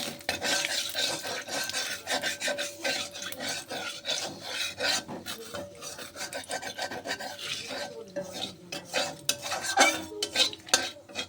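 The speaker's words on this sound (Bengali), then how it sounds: "ফোড়ন দিয়ে দিলাম, তেজপাতা দিয়ে দিলাম, একটু নাড়াচাড়া করে নেব।" Tempering spices and a bay leaf stirred in hot oil in a kadai, with continuous rasping scrapes of a spoon against the metal and a light sizzle underneath, close and busy throughout.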